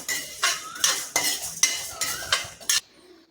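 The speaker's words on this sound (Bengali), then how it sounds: "এটা একটু হালকা করে আমি ভেজে নিচ্ছি" Mung dal lightly frying in a pan while a spoon stirs it, several distinct scraping strokes of metal against the pan over a faint sizzle, close and clear.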